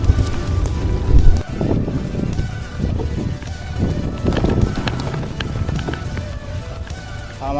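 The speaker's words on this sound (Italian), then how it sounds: "Oggi c'è un vento fortissimo e ce l'avrò tutto contro." Strong wind gusts buffet the microphone on a desert road in Kazakhstan, producing loud, uneven rumbling bursts that swell and fade throughout.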